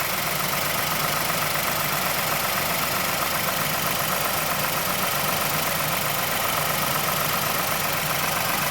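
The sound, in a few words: Mazda Mazdaspeed6 engine timing chain clicking noise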